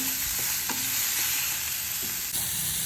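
Two chopped tomatoes sautéing in a pan for paneer butter masala, with a steady close sizzle throughout and a few faint stirring scrapes, no voices.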